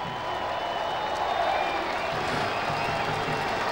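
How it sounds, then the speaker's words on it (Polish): Speedway fans at a ZKŻ Kronopol versus Polonia Bydgoszcz meeting applaud after a crash, a steady wash of distant clapping and crowd noise with no single claps standing out, under a broadcast mix. "Teraz oklaski kibiców."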